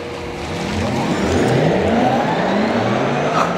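A 2021 Porsche Taycan electric car, a 4S or Turbo, accelerates hard on a race track. Its loud, sci-fi electric whine climbs steadily in pitch over a roaring rush of road and wind noise.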